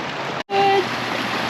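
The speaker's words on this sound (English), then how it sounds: "Lots of waterfalls back in here." Steady rushing of waterfalls and a flowing stream on a spring overland trip, a continuous broadband wash with a brief dropout and a faint whistle-like tone over it.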